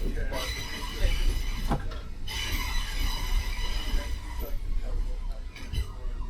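Merseyrail Class 507 electric train braking to a stop at a platform, a steady rumble of wheels and motors with squeals and clunks, moderately loud, with faint talk in the cab.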